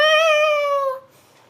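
A single loud, clear cat meow sounds as a livestream alert, a drawn-out tonal call that cuts off abruptly after about a second, leaving near silence.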